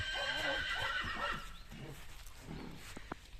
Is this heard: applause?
no